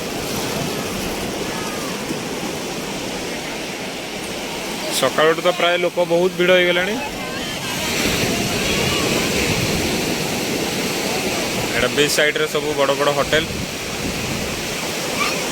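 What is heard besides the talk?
sea waves breaking on Puri beach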